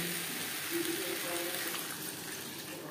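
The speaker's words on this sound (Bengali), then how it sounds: "হাই ফ্লেমে 2-3 মিনিট রান্না করে নেওয়ার পর দিয়ে দেবো জল" Water pours into a pan of Bengali fish and potato curry, a soft continuous gushing splash heard close but quietly for a few seconds.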